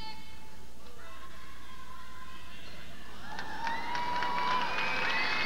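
Crowd in a gymnastics arena at the 1989 World Championships reacting to a score, a rising swell of cheering and whistles building in the second half, heard behind steady commentary.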